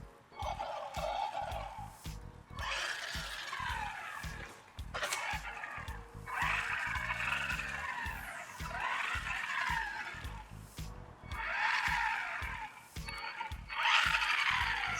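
A Hosim 9125 1:10 scale 4x4 RC truck drives in repeated bursts, its electric motor whining and wheels skidding and scrabbling over the ground, with short pauses between runs.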